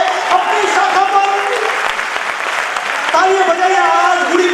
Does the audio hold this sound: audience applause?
yes